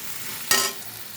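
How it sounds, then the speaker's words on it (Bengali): Ginger, turmeric and salt frying in hot oil for a bitter dal, heard as one short, close burst of sizzling and stirring against a quiet background. "দিয়ে আরও দু মিনিট মতো ভেজে নেব"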